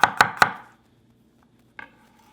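Three sharp knife strokes slice through potato pieces on a cutting board in quick succession, then a pause before one lighter tap; close and clear with no talking.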